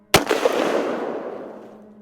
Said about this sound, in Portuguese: Um tiro ensurdecedor ecoou por toda a mata.